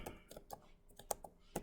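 Keys on a computer keyboard are tapped for a shortcut, a quick irregular series of about a dozen close, crisp clicks with no talk over them.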